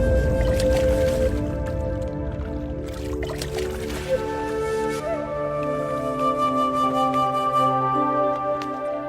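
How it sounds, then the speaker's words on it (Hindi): Two clay pots lowered into water give wet squishing, gurgling and dripping sounds, loud and close, running steadily under dense layered background music. "अब आप इन दोनों घड़ों को पानी में डाल दीजिए।"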